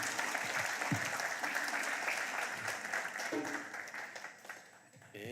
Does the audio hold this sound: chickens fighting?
no